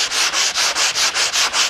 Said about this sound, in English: I started sanding.